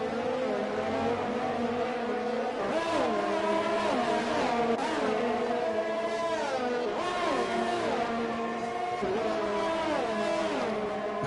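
Race cars at the Azerbaijan street circuit, running close to the wall, scream past in succession, their engine notes rising and falling with gear changes and Doppler sweeps, loud and continuous with no talk.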